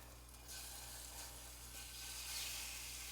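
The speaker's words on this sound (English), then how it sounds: "There we go, the sizzle." A hot pan sizzles steadily with no food in it yet, just before chicken goes in to sear for bang bang chicken lettuce cups. The hiss is continuous and close and swells a little toward the end, with no voices.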